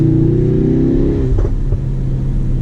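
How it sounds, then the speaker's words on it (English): A 2018 Ford Focus RS Final Edition with manual gearbox and four-wheel drive, its exhaust droning loudly from inside the cabin while driving, the engine note rising steadily before a brief shift-like break and settling into a lower steady rumble. "Hey, what a great car. This complete package with the 4-wheel drive and the manual gearbox, the Ricardo seats, and this exhaust sound."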